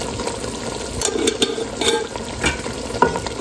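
Potatoes for aloo gobi fry in a pan, sizzling softly beneath irregular scraping and clinking strokes of stirring. No voices are heard.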